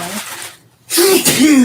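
A single loud sneeze close up, a sharp explosive burst with a short vocal tail, preceded by a brief murmur.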